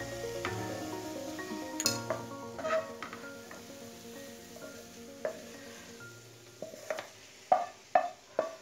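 Capsicum and brinjal thoran tossed in a pan, with a faint sizzle under irregular stirring and a few sharp spoon clinks on the pan rim near the end, close by and without talk.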